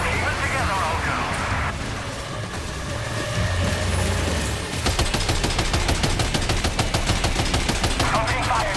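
Gunfire in the video game Death Stranding 2, rapid automatic bursts building into sustained machine-gun fire with heavy rumbling underneath, loud and dense, with faint talk early on.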